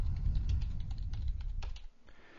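Fingers type a short caption on a computer keyboard, giving soft, quick keystroke taps close by that fade out near the end.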